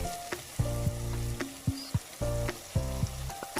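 Soaked amla gooseberries fry in a pan with salt and turmeric, giving a sizzle broken by repeated clattering stirs and scrapes. The sound is close, with no voices.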